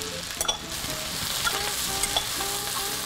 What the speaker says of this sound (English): we'll let that saute for a few minutes until they all get nice and soft